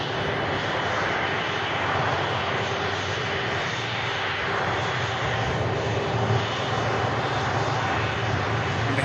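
Jet airliner pushing back and taxiing at Manchester Airport, a steady broad engine roar with a constant whine, loud and continuous throughout with no voices.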